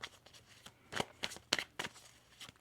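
Tarot cards shuffled by hand in a few quick riffling bursts, close and fairly quiet, with short pauses between the shuffles.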